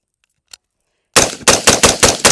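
A Sig Sauer M400 5.56 rifle fires a fast string of about six loud, close shots in quick succession after a brief silence.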